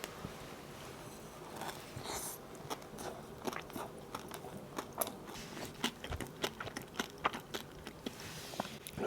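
Crisp bites and crunching into a Dunkin' Dubai-style chocolate doughnut filled with pistachio paste and fried kadaif, heard close and fairly faint as a series of small irregular crackles and chews, with no talking.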